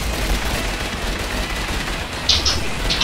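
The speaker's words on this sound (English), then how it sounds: "Ooh, an Uzi!" Uzi submachine gun fire in the Garry's Mod Tower zombie game, a dense, continuous rattle of rapid shots held loudly throughout with a few sharper bursts near the end.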